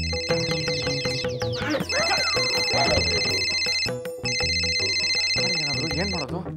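A phone rings with a repeating electronic tone in bursts, loud and close, alongside talking voices.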